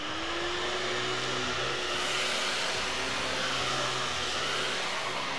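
Miele Triflex HX1 cordless vacuum running at its highest suction setting, a loud, steady close-up whine and airy roar that holds evenly throughout with no talk.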